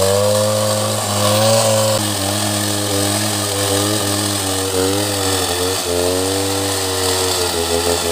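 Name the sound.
saw cutting wood and hitting a nail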